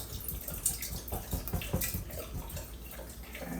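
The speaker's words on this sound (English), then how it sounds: "I usually rinse it out with just a smidge of water to get the extra stuff that's in the bottom" A small amount of tap water swirls and splashes inside a container being rinsed of leftover seasonings, a close, uneven sloshing with soft drips throughout.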